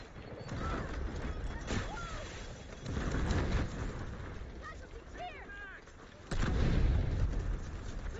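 Gunfire and sniper shots echo across a hillside in the video game Delta Force, with several loud bursts and impacts under continuous excited talk between players.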